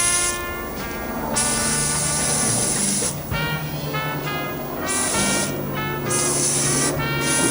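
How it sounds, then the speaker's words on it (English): Degreaser sprays onto car clutch parts in bursts, loud hissing blasts that start and stop several times in a garage-like space. "Wash off, bit of a spray down with some degreaser."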